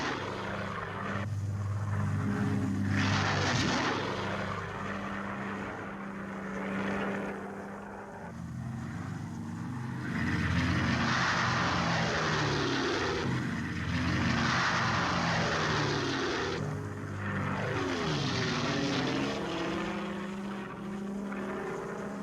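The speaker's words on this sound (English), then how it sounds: "first serials of C-47s follow on the invasion path" C-47 transport aircraft fly in formation toward the D-Day invasion, their propeller engines droning as a steady, loud, continuous roar that swells and eases over the whole stretch, with no voices.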